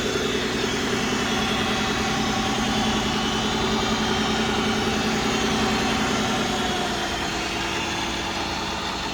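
Steady engine idle from a 2007 Nissan Maxima, recorded close under the hood with a constant hum and no talking.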